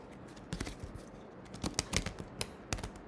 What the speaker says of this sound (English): let me shuffle one time